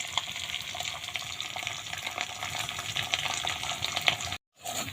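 Dried fish and onions frying in a pan while being stirred, a dense continuous sizzle with scraping and clatter from the stirring, close and fairly loud, cutting out abruptly near the end.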